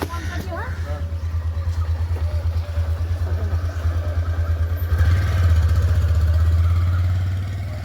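A motorcycle engine running steadily close by, a low continuous drone with a fast pulsing throb that grows a little louder partway through, with no other sounds over it.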